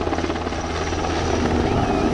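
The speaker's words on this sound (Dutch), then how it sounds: "Maar ook deze helikopter is natuurlijk ultra wendbaar." NHIndustries NH-90 medium utility military helicopter flying close with loud, steady rotor and turbine roar, no talk.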